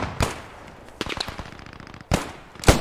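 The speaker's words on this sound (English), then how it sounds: "Yeah, they're shooting at me." Enemy gunfire in the World War II shooter game Post Scriptum: a few sharp, separated shots, some with a distant crack and echo, spaced irregularly over a quiet background.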